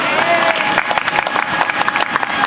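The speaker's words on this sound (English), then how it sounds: "Can we give her a round of applause?" Applause for an award recipient at an anniversary concert at a museum, many hands clapping close and dense in a brief continuous burst.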